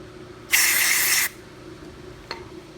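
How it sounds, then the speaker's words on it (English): Carb cleaner sprayed into the bowl of a Honda HRB215 lawn mower carburetor, one loud hissing burst of under a second, up close, followed by quiet and a brief faint click. "carb spray and some steel wool"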